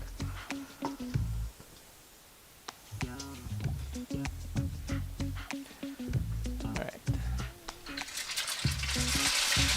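Chicken egg foo young patties deep fry in hot oil, a busy crackling sizzle full of sharp pops and ticks that grows denser toward the end, with a voice talking over the cooking.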